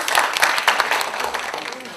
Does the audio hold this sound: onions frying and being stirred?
no